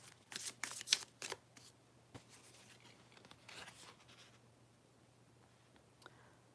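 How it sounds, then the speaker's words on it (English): Deck of spirit oracle cards shuffled by hand, with a few quick riffling bursts up front, then softer sliding and rustling that fades out, close and quiet, with no talking. "Final card."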